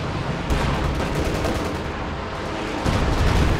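Mortar fire in Company of Heroes 2 during an urban battle: a dense, continuous roar of overlapping booms and rumbling blasts, loud and close, with a sharper surge near the start and again toward the end.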